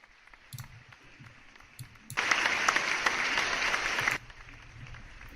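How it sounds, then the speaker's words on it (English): A short burst of applause on a live stream, about two seconds of dense clapping that starts abruptly and cuts off just as sharply, with quieter background sound before and after. "Let me give you an applause"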